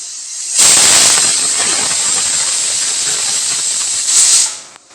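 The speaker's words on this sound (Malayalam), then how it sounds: "കുക്കറിൽ വെച്ച് ഒരു 3 വിസിൽ ഏൽപ്പിച്ചിട്ടുണ്ട്" A pressure cooker on the stove steaming while cooking rice lets out one loud, continuous high hissing whistle lasting several seconds, close and dominant, then cuts off abruptly.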